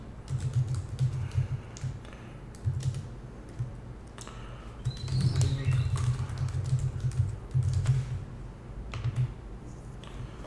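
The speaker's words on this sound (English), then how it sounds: "just add a comma and then keep on typing the emails that you would like to send them out to" Steady typing on a computer keyboard while entering email addresses, a close, continuous patter of key clicks with short pauses between bursts.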